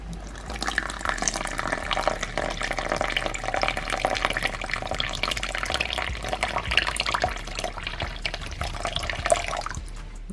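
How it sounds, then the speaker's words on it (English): Water pours and splashes steadily for about ten seconds into a scorpion enclosure, a continuous trickling stream close by with no talking. "I'm gonna be quiet so you guys can hear the water."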